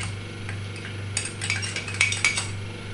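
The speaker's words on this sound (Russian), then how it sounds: "Сейчас мы его размешаем." Fork clinking and scraping against a dish while stirring sports supplement powder into liquid, a run of light metallic taps that grows busier and louder toward the end, close up over a low steady hum.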